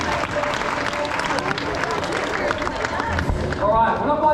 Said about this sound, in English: We'll give him a nice big clap for that one.